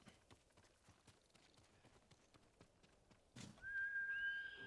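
Faint rhythmic hoofbeats of a galloping horse in Ghost of Tsushima, followed by a sharp burst and a sustained whistle-like tone near the end, at low volume with no talking.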